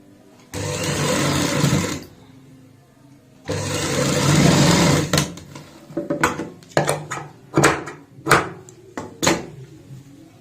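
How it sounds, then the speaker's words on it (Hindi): An electric sewing machine runs a straight seam in two loud whirring bursts with a short pause between, then gives a series of sharp clicks and knocks as the fabric is handled. "यहाँ पे बिल्कुल सीधी सिलाई लगाएंगे"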